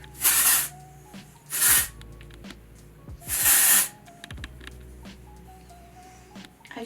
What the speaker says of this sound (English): So I have the Way Texturizing Hairspray and I'm just going to try.